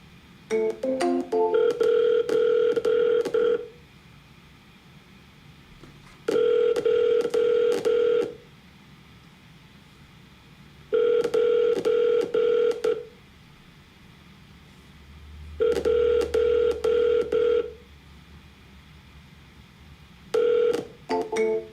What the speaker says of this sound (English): You guys should hear the dials.